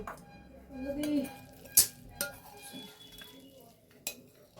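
Chhana is stirred into a pot for chanar payesh, with soft scraping and sharp metallic clinks of a spoon against the pot, a quiet voice murmuring in between.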